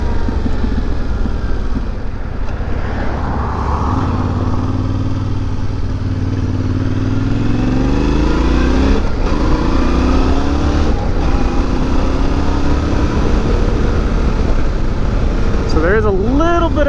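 A 2021 Yamaha Tenere 700 motorcycle being ridden, its engine droning steadily with rising and falling pitch as it revs through gears, mixed with wind rush and a voice talking over the ride.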